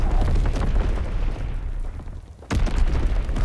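An Azon bomb detonates in the Call of Duty WWII multiplayer game, a heavy rumbling blast followed by a second sharp, loud explosion near the end, with no voices.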